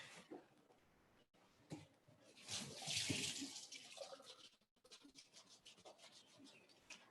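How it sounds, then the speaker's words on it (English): Hands are washed with soap under running tap water at a kitchen sink before cooking, with rubbing and splashing that swell and fade. Faint and close, with a brief pause midway. "I love to wash my hands clean with soap and plenty water."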